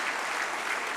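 Steady applause from a crowd at a business dialogue event, a dense wash of clapping that holds evenly for about a second with no voices.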